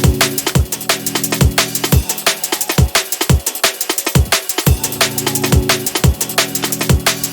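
Liquid drum and bass track: rolling breakbeat drums with punchy kicks and crisp hats over warm sustained chords and bass, loud and steady with no voices.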